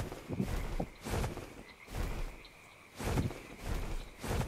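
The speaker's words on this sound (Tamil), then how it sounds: "தவளையெல்லாம் கத்துது" Frogs croak in the video game ARK Survival Evolved, a run of about six rhythmic, raspy croaking bursts at even intervals, moderately faint against a quiet background.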